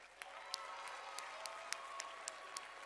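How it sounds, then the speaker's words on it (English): A large audience at the Iowa FFA State Leadership Conference applauds advisors, a steady wash of clapping heard from a distance with a few sharper claps standing out, and no voices over it. "let's give a round of applause for all the amazing advisors in the state of Iowa"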